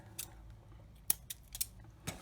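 Scissors snip through journal cord in several short, crisp cuts, spaced irregularly, close and fairly quiet, with no talk.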